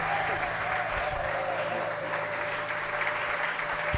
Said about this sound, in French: Applaudis très fort pour le recevoir.